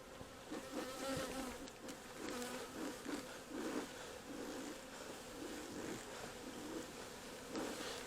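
Honeybees buzzing steadily at an open hive being calmed with smoke, a dense continuous drone close by with no pauses and no talking.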